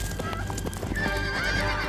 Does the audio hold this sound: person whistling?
no